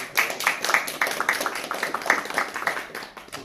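Rhythmic clapping from an audience at a film debate, fairly quick, regular claps from a modest crowd heard close and steady throughout.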